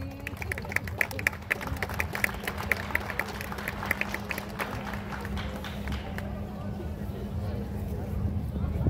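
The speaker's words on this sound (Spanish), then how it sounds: "por favor, con un fuerte aplauso." Rodeo crowd at a jaripeo in Centralia, Washington, breaking into a burst of sharp hand claps that thins and fades, with crowd murmur underneath.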